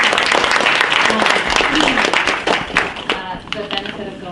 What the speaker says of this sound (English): Please join me in the round of applause to Dr. Zaretsky.